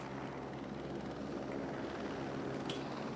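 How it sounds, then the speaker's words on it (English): A helicopter in Batman Arkham City Armored Edition, a loud, steady rotor and engine roar that holds throughout with a couple of faint high glints. "Hey, look, the helicopter."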